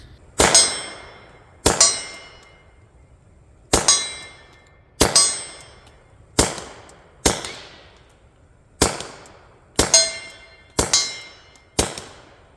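Pistol shots suppressed by a Gemtech GM-22 ring off a steel swinger target about 25 yards away: eleven sharp metallic clangs, each with a brief ringing decay, at irregular intervals of about one to two seconds.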